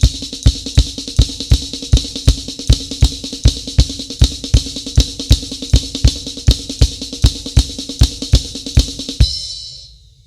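A drummer plays a flam pattern on a ride cymbal, an even, rapid series of bright doubled strikes with a ringing wash underneath, close and loud, stopping abruptly near the end as the ring fades.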